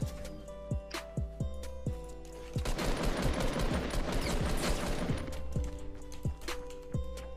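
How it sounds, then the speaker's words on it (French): Fortnite minigun firing in sustained rapid bursts, preceded and followed by single sharp gunshots spaced a second or so apart, with a dense roaring stretch of continuous fire in the middle. "Attention, le mec au pompe laisse un minigun."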